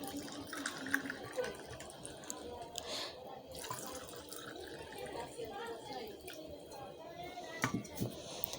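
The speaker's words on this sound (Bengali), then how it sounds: "দিয়ে দিচ্ছি নর্মাল পানি" Plain water poured into a mango Tang drink with lemon juice and salt, a soft continuous trickle and splash at close range, steady throughout with a few louder drips near the end.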